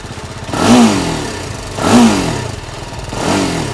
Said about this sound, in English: Now the grunt from this exhaust is pretty peppy.